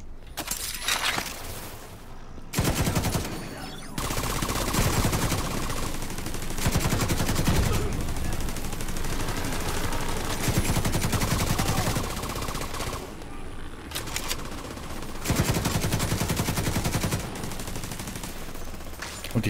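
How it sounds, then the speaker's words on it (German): RPK machine gun in the video game The Division 2, loud sustained automatic bursts separated by brief pauses, with impacts, breaking debris and occasional game voice chatter. "Schauen wir mal, wie sich die RPK macht."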